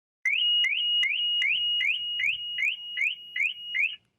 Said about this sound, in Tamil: அப்படி பண்ணும்போது உங்களுக்கு இந்த மாதிரி கண்டினியூஸா அலாரம் அடிக்க ஆரம்பிச்சிடும்